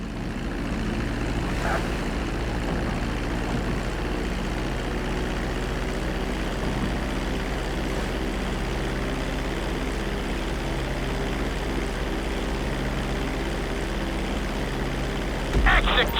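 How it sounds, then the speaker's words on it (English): A plane descends and lands on a runway in GTA 5: a steady, loud propeller-engine drone holds for the whole stretch, ending with a brief thump near the finish. "Start reducing the plane's altitude gradually so you're just above the runway as you approach."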